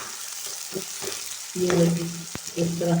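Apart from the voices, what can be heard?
onions frying with spices in oil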